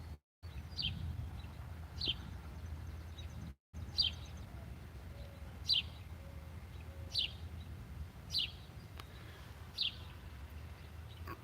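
A sparrow on a utility pole chirps repeatedly, short bright calls spaced every second or two, fairly near, over a low steady background hum.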